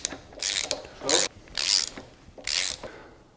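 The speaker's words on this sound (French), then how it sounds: "Donc avec les 2 clés 6 pans. Nous allons serrer à fond." Two hex keys tightening the adjusting screw on a Schwanitz MPB-1 pendulum brake give four separate bursts of ratcheting, clicking metal, each lasting about a quarter to half a second with short pauses between, close up and without speech.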